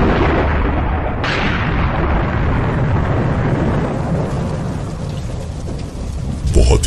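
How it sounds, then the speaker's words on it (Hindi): Thunder rumbles and cracks through a heavy downpour in a horror story, a sharp clap breaking in early before the storm rolls on steadily and loudly, with rain hissing continuously beneath it. "बहुत ही तेज बारिश होने लगी और बादल गरजने लगे।"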